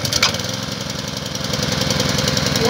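A Vepr ABP 2.2 petrol generator starting in minus 5 cold, its small engine catching and settling into a loud, close, rapid chugging idle that steadily firms up.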